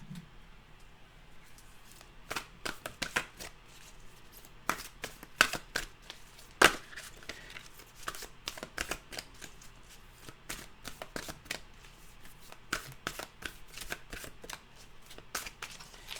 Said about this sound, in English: Okay, we will get the Journey of Love cards out here.